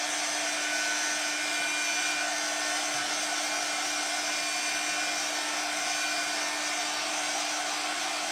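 A hair dryer blows steadily on a flexible resin mould, a constant close whirring hiss with a fixed hum that runs unbroken throughout.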